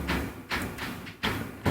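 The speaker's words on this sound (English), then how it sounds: "That's a knock on my door." Several dull knocks on a door, in irregular spaced pairs of thuds at moderate loudness with no talk over them.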